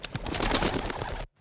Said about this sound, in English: There's birds in here.